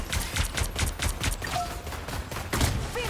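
Rapid bursts of gunfire from the agent Phoenix's weapon in a competitive shooter match during a LAN playoff, sharp repeated shots in clusters, loud and close with game effects between volleys.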